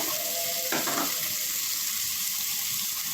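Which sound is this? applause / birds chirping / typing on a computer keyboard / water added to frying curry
water added to frying curry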